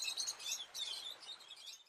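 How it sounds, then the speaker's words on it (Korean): Birds sing and chirp continuously in spring, a dense high twittering of several calls at moderate level with no voices. "노래하는 새소리도 들렸지"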